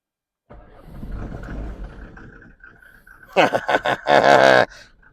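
An old Mercedes W124 250TD turbo diesel engine cranks and rumbles low at first, then a voice breaks in loudly over the running motor near the end.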